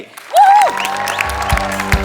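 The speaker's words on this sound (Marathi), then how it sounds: "एकदा जोरदार टाळ्या झाल्या पाहिजे त्यांच्यासाठी" An audience at a stage award ceremony applauds a lifetime achievement honoree, a dense burst of clapping that opens with a short vocal whoop and carries on steadily, with some low rumble underneath.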